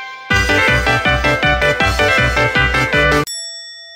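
A Juggler slot machine plays its jackpot jingle: a bright, loud, electronic chiming melody of about eight rhythmic notes, cut off abruptly and followed by a sustained tone.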